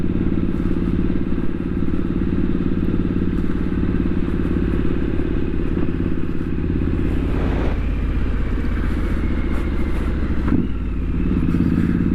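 A Triumph Street Scrambler 900 motorcycle rides along steadily, its engine a loud, continuous rumble with rattling mechanical clatter, heard close up from the rider's position, with a couple of brief gear-change dips.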